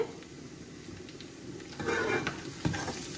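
Garlic sizzling in a pan for a shrimp and green bean curry, a steady crackle of frying that swells midway as it is stirred, with a few scraping clicks.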